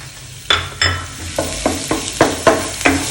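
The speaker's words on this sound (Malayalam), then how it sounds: "ഇനി ഇതിലേക്ക് 1 ടേബിൾ സ്പൂൺ അളവിൽ ഇഞ്ചിയും വെളുത്തുള്ളിയും ചെറുതായിട്ട് അരിഞ്ഞതും കൂടി ചേർത്ത് കൊടുക്കുക." Finely chopped ginger and garlic fried in oil for chicken stuffed snacks: a close, loud sizzle punctuated by about eight rhythmic spatula strokes scraping the pan.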